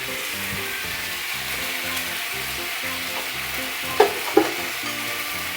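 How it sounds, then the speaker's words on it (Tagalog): Garlic and onion sautéing in a pan, a steady close sizzle with stirring scrapes and two sharp utensil knocks near the end, no voices. "Magigisa na natin yung ating bawang at sibuyas dyan."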